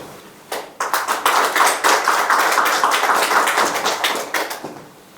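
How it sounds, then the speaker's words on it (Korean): An audience at a Korean award ceremony breaks into steady applause, a dense patter of clapping that rises, holds for several seconds, then thins out. "박수로 맞아주십시오"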